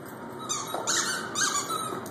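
A Doberman whines in short, high squeaky bursts, fairly close, with a faint steady background hum and no talking.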